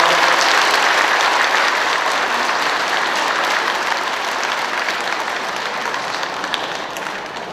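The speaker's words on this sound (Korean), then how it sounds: "큰 박수 부탁드립니다" Congregation applause at a Catholic Legion of Mary church event in Incheon, a dense, loud wash of many hands clapping continuously for several seconds and easing slightly toward the end.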